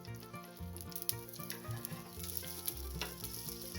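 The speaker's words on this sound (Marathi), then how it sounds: "मी इथे पोळीवर थोडं तूप टाकून घेते." Puran poli flatbread sizzles steadily on a pan as ghee is added, a faint, continuous crackling frying hiss with small pops, close by and with no talk.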